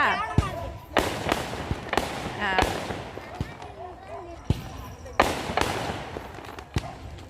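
Firecrackers pop and crack repeatedly at irregular intervals at a Tamil village church festival, some loud and close, with people chattering and shouting between the bursts.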